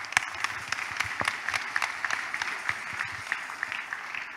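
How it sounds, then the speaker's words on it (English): A church congregation applauds, with dense, steady clapping from many hands at moderate distance, a few sharper claps standing out, continuous and lively with no talking over it. "Applaudissons pour le Seigneur."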